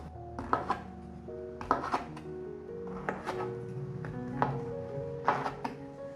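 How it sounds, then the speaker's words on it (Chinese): Knife chopping king oyster mushrooms on a cutting board, a series of sharp, close taps in an irregular rhythm, each with a brief woody knock, with no one speaking. "把杏鲍菇切一半"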